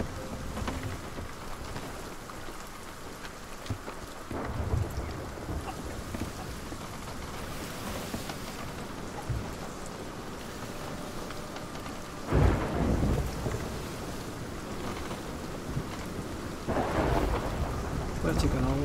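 Thunderstorm with steady heavy rain at sea in the Sea of Thieves video game, aboard a single-player sloop; a continuous rain hiss runs throughout, broken by several loud, close rumbling thunderclaps, with one building swell near the end.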